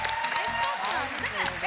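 Studio audience applause on a Turkish TV family game show, a broad wash of clapping with crowd noise and a few cheers, while voices talk over it.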